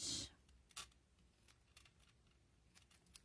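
Scissors trimming a lightweight ribbon while making a wildflower birthday card: one short, crisp snip at the start, then a faint second cut, with soft, quiet handling noises in a still room.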